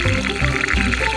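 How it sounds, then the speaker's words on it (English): Water pours into a garden reservoir in a steady, gurgling rush with bubbling surges, close and loud with no talk over it. "We're gonna fill up that reservoir."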